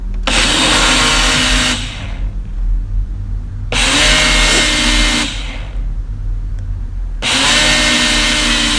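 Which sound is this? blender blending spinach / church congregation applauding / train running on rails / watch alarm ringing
blender blending spinach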